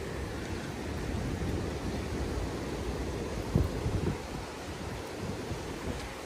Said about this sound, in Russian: Шум прибоя